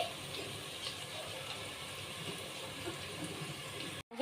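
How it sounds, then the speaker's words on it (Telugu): Water pours steadily into rice for prawn biryani, a continuous soft splashing rush at moderate level that cuts off abruptly at the end. "ఇక్కడ రైస్లో చూడండి నేను ఆల్రెడీ నీళ్ళు ఉంపిస్తున్నాను"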